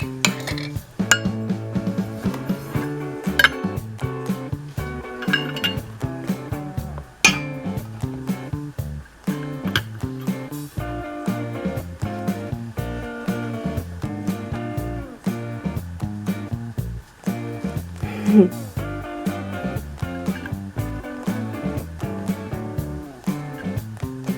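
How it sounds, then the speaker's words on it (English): A whisk beats melted chocolate, butter and powdered sugar in a bowl, with a steady run of metallic clinks and scrapes against the sides over about twenty seconds. "we'll whisk that together"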